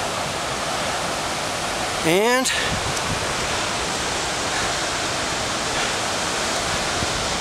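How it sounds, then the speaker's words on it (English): The North Fork of the San Joaquin River rushes past loud and close as a constant roar of whitewater. A brief voice cuts in once over it. "There's the North Fork of the San Joaquin, a mighty river."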